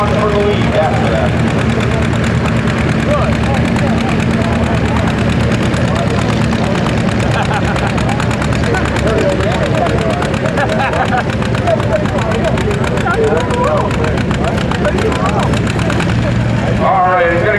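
An antique John Deere tractor at a tractor pull, its engine a loud, continuous roar throughout, with a crowd and PA commentary mixed underneath and the engine cutting off near the end.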